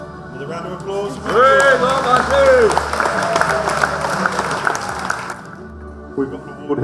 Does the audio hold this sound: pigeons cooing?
no